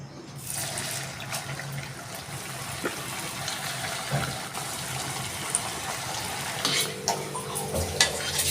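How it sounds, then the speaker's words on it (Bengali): Sweet potato milk puli dumplings frying in hot oil give a continuous close bubbling sizzle with scattered crackles and pops that holds steady throughout, with no talking. "তেলটাও গরম হয়ে গেছে আমি হালকা গরমে এগুলো ছেড়ে দিচ্ছি"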